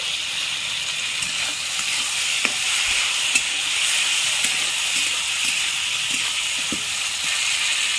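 Spices, cashews, raisins and green chilies fry in a pan with a steady, hissing sizzle, and occasional soft stirring clicks sound under the constant crackle, with no talking.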